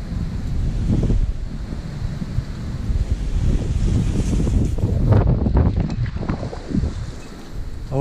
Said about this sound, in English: That wind is muffled